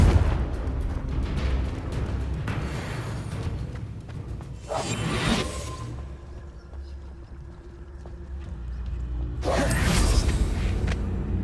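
Confringo fire spells bursting in a Hogwarts Legacy wizard duel, two sharp whooshing explosions several seconds apart over a low rumbling battle backdrop.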